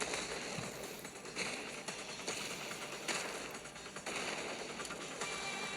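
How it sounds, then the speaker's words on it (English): Dense, crackling bursts of explosions and gunfire-like pops in the video game Punishing: Gray Raven pile up in rapid succession, a continuous loud barrage with sharper spikes every second or so. "flames erupt throughout the base as explosions thunder in rapid succession"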